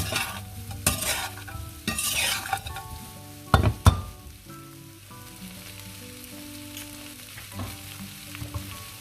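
Farrey, a steamed dumpling snack, sautés in a pan, giving a continuous sizzle broken by loud clattering stirs and scrapes early on, then settling into a quieter crackle.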